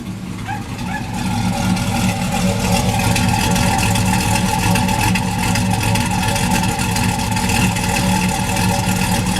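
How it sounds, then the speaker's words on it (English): A GMC Sierra Denali Quadrasteer pickup running through its stock muffler, the engine and exhaust rising into a steady, close, loud rumble that holds evenly for several seconds with no talking over it. "It does not sound bad with the stock muffler."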